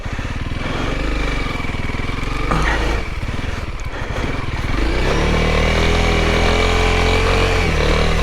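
A Honda CRF300L motorcycle ridden off-road through thick mud, its engine loud and close with a rough, throbbing note that revs and strains, shifting pitch partway through.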